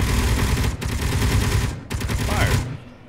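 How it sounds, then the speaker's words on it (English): Turret gunfire in the video game Space Engineers, with slaved point-defense and rotor turrets firing rapid, loud sustained bursts broken by two brief pauses, close, with a voice faintly underneath. "wherever that Designator turret points, that will point and fire"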